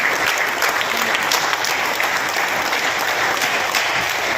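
An audience at a Rotary district leadership training session claps loudly and continuously in a hall, a dense patter of many hands with a faint voice underneath.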